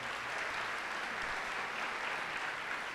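Church congregation applauding during a Portuguese-language sermon, a thick, continuous roar of clapping from a large crowd that holds steady and loud throughout with no speech on top.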